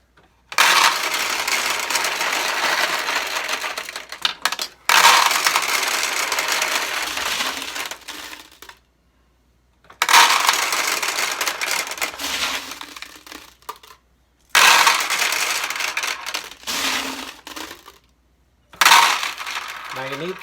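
A 1972 Nishijin Model B pachinko machine runs loudly with balls, a dense metallic clattering rattle in long bursts of several seconds, each ending in abrupt silence before the next.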